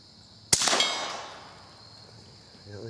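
A single .22 Short shot skips off water and strikes a steel plate, a sharp crack followed by a bright metallic clang that rings and decays over about a second, set against quiet outdoor background.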